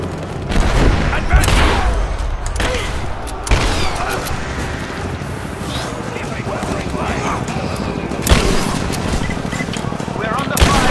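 A shotgun fires in Rise of the Tomb Raider, with several sharp, loud blasts spaced a few seconds apart over a busy battle din. A voice talks over it.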